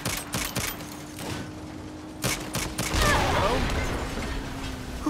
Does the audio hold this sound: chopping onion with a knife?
no